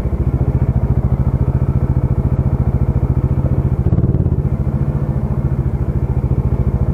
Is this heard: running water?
no